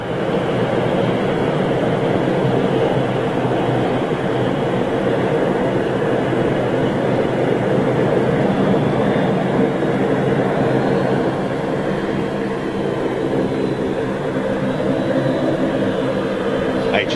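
A turboprop airliner at Manchester International Airport gives a steady, loud droning roar that holds evenly throughout, with no talk over it.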